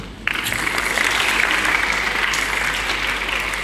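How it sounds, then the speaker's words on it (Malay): Audience applause at a school graduation ceremony, starting abruptly and holding as a steady, dense wash of many hands clapping in a large hall, with no talking over it. "tolong tepuk tangan dia kalau ibu sebut ya"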